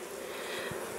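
Honey bees at a hive in an apiary, a faint continuous buzzing hum from many insects, brief and without talk.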